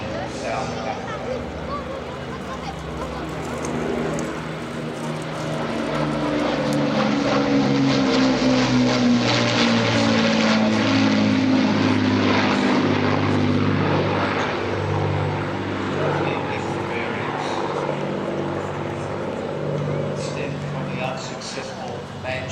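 A WWII-era propeller aircraft drones past at an air festival in the Midlands, its engine note swelling to a loud peak mid-pass before easing away, with a voice talking over it.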